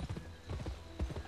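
Horse hooves clip-clopping at a quick riding pace in the Western video game Gun, with several close, quiet thuds over a short stretch.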